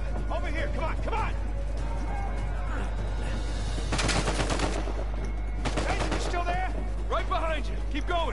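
Gunfire in the Uncharted 4 video game comes in two loud automatic bursts of rapid shots, with lighter scattered shots between them, over constant low background noise and shouting voices.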